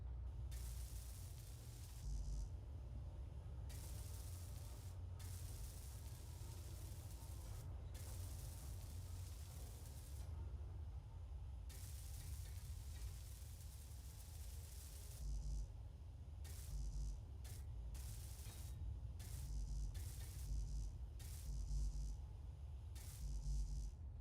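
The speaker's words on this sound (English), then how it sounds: "I'm going to start trying to weld some of this up." A welding tool hisses steadily in Space Engineers. The harsh spraying noise runs continuously over a low rumble and cuts in and out in repeated bursts, heard alone without voices.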